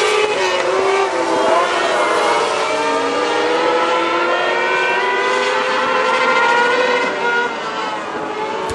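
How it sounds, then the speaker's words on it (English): Race cars lapping a speedway track at night, a loud continuous engine drone with several overlapping pitches rising and falling as the cars pass, and a commentator talking faintly under it. "All right, these laps are going by really quick here tonight."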